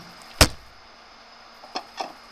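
One sharp, loud truck door slam as a driver climbs aboard in Construction Simulator 2015, followed by two fainter clicks over a quiet idle background.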